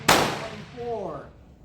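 A single sharp shot from a Swedish Remington rolling block rifle firing a cast-bullet reload rings out, with a bright metallic clang that decays over about a second while a faint voice follows.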